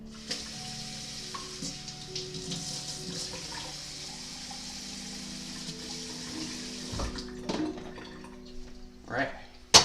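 Rice frying in a wok with a cast iron pan heating alongside, a soft continuous sizzle under steady kitchen hum, broken by a few clatters and a louder burst of sizzling and knocks near the end.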